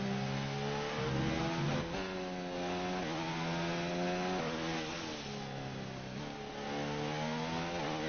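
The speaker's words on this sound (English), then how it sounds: "It does sound lovely, the engine." Red Bull Formula 1 car engine in the racing game F1 2019, a loud high-pitched whine that climbs steadily through each gear and drops briefly at every shift, repeating over several upshifts.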